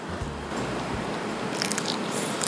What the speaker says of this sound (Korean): 저는 껍질째로 한번 먹어보겠습니다.